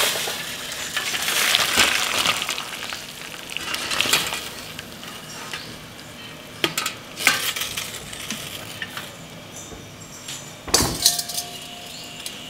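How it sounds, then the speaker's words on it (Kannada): Boiled green cauliflower is tipped out and drained of its cooking water, a close, busy run of wet splashing and clattering against a strainer with several louder bursts. "ಈಗ ಇದರಲ್ಲಿರುವಂತಹ ನೀರನ್ನೆಲ್ಲ ಸೋಸ್ಕೊಂಡ್ಬಿಡೋಣ."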